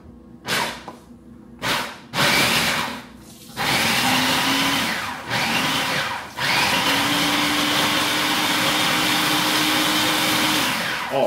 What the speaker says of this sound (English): So now, you put them in your food processor.